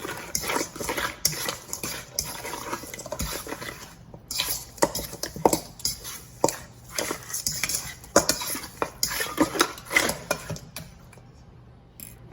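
A spoon stirs pimento powder into a pot of Jamaican red peas soup, giving irregular clinks and scrapes against the metal pot at close range, with brief pauses and no talk.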